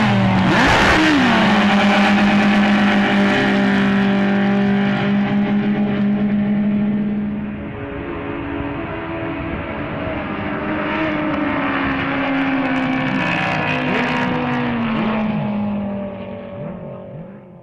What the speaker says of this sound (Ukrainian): Так відбувалися перегони з водномоторного спорту